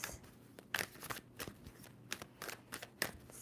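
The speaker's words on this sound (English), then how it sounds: "2 more shuffles for Sagittarius" Tarot cards shuffled by hand during a reading, a run of crisp riffling bursts and soft slaps repeating irregularly, close and fairly quiet, with no talking.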